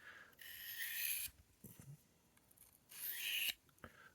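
A pocket knife edge is drawn across a 1000 grit ceramic Lansky stone in two faint, close raspy strokes, each lasting about a second, with light clicks and handling in between.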